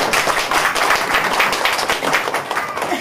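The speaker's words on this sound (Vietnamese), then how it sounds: "xin quý vị cho một tràng pháo tay" Wedding guests applauding at a Vietnamese wedding ceremony, a burst of dense, close hand clapping from a crowded room, steady and loud for a few seconds.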